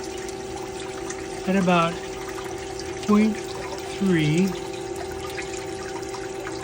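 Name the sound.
water flowing through funnel system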